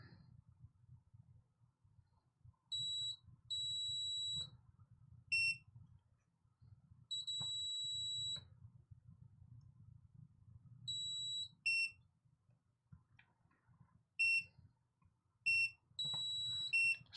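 A soldering iron beeps in short high-pitched electronic bursts, some single and some sustained, repeating irregularly over quiet workbench background noise during a Game Boy cartridge repair.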